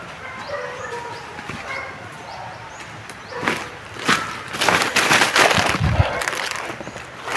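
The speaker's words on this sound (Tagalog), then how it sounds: "May aso pala dito." Dog barking several times at close range, sharp irregular barks mixed with bird chirps and some vocal noise, growing busier and louder toward the end.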